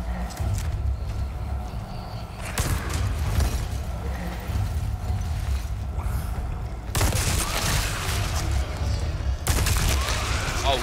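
Submachine guns fire in Resident Evil 4 as rapid bursts that come and go, with dense rattling stretches between quieter spells and steady game noise underneath.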